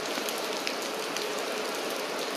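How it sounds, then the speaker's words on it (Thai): Rain falling steadily outdoors in Korea, a constant dense patter of drops on a surface with no pauses, fairly loud and close, with no voices. "ฝนตก"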